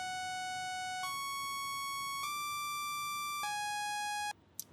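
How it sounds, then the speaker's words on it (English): A plain saw wave synthesizer plays a slow melody of four sustained notes that step up, then down, each ringing bright and buzzy before stopping abruptly, with no talk. "So here's the melody, a plain saw wave."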